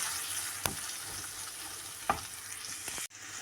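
Ground turmeric, chili, coriander and cumin fry in oil in a pan. A soft, steady sizzle is broken by a few sharp scrapes and knocks of a spoon stirring, then a brief cut-off near the end.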